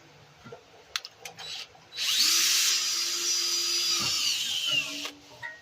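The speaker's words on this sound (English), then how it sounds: "Now let's start drilling this hole." A power drill bores out a broken bolt with a bit, whining steadily for about two seconds at close range after a few clicks and handling taps, then stopping abruptly.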